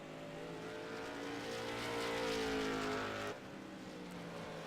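A race car at Stafford rounds the track during a 100-lap race, its engine swelling louder as it approaches and then dropping off sharply as it passes, with a steady engine drone from the field underneath.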